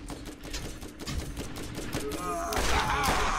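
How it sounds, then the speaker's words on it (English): Rocket explosions in the game Borderlands: repeated thudding blasts and gunfire, close and loud, building toward a denser burst near the end. "that was a couple of rockets"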